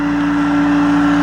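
A Carvana car-delivery truck's engine runs in a steady, loud, close drone with a strong constant hum and no change in pitch, heard alone without talk.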